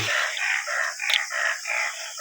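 A rooster crows loudly and close by, several drawn-out, strained calls running together with no other sounds around them.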